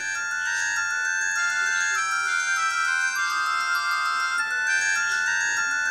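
A bright, looping electronic text message ringtone melody from a K1 watch phone plays on its own, repeating a short chiming phrase several times at moderate volume.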